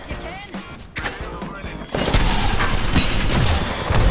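Gunfire in the battle royale game Apex Legends: a few sharp shots early on, then a loud sustained burst of booming, crackling fire. Voices speak faintly underneath.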